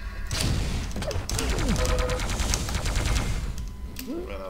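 Rapid weapon fire in the arena shooter Quake 3 Arena rattles loudly in a dense, continuous burst of repeated shots, with a few game effect tones around it.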